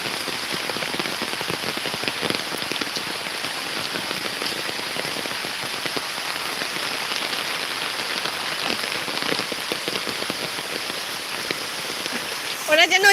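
Steady rain pours down in a village, a dense continuous hiss of drops on surfaces with scattered louder splats, holding an even level for the whole stretch with faint voices beneath.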